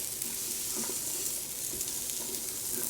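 Chopped vegetables for chicken noodle soup sizzle steadily in a hot pot, a dense hiss with small popping crackles throughout, close and moderately loud, with no talking.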